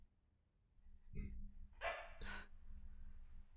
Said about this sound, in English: It's the damn dog.